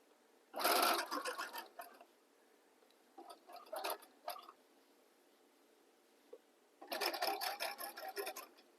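A sewing machine stitches the center back seam of a pair of pants in a long, whirring run, then a few short stop-start bursts, then another sustained run of rapid needle clatter, close and clear.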